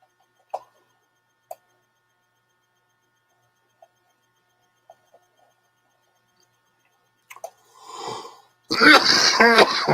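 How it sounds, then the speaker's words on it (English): Faint ticks and taps in a quiet room lead to a couple of brief coughs near the end, followed at once by a person talking. "Cough, cough, hack, hack."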